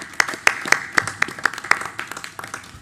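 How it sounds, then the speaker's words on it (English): Scattered, sparse clapping from a school board meeting audience honoring teachers, individual claps distinct and fairly quiet, thinning toward the end, with faint murmurs in the room. "So a round of applause for our amazing teachers during Teacher Appreciation Week."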